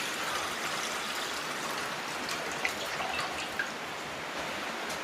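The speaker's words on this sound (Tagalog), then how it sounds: "maglalagay na ako ng tubig dito sa kaserola" Water poured into a casserole pot while cooking a fish soup, a steady, moderately loud wash of splashing and trickling with a few small drips standing out, no talk.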